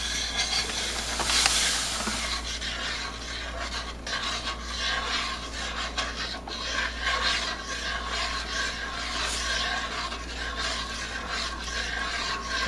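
A spoon stirs sugar into a pot of black raspberry jam, a continuous close scraping and rasping with a low steady hum underneath and no voices.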